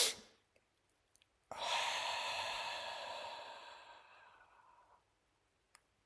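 A long, deep breath in a guided breathing exercise: one broad, airy exhale of about three seconds that tapers to silence, after a brief sniff at the start, close and clear with no talking.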